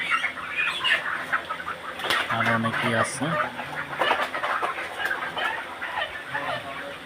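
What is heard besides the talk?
farm chickens clucking and flapping while being caught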